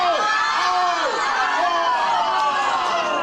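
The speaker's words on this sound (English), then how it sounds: "Cheering, we're like, what are they cheering about?" Loud crowd at a live music show cheers and shouts continuously, with high whoops and voices sliding up and down over a dense babble that fills the whole stretch.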